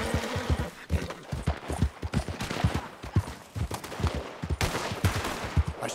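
Rapid, dense gunfire from a shootout in Red Dead Redemption 2, with many overlapping shots cracking in quick irregular bursts throughout, loud and close with a busy battle din behind.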